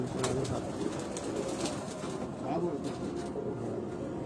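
Pigeons coo softly in a loft during a racing-pigeon showing in Pakistan, low murmuring calls blending with a steady background hum and faint wing movement.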